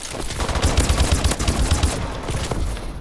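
Ohm light machine gun firing in Call of Duty Advanced Warfare: a sustained, loud automatic burst of rapid shots with dense rhythmic thumps that runs nearly the whole stretch, tapering slightly at the end.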